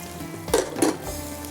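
Food frying in hot cooking oil and vanaspati gives a steady soft sizzle, with two brief louder crackling bursts partway through and no talk.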